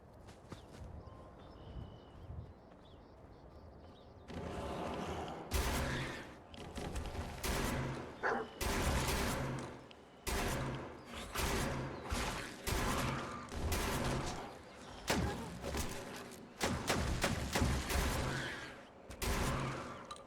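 Shotgun fire in the video game Fallout 4, a series of loud, close blasts in irregular bursts after a quieter opening, with rustling movement between shots and no talk.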